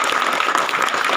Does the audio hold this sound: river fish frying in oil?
no